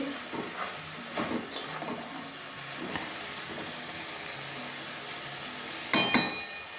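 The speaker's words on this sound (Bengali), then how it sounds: "এবারে ভালো করে কষিয়ে নিচ্ছি" Water spinach and snail curry is sautéed in a pan, a low continuous sizzle with repeated soft stirring scrapes and a louder clink near the end.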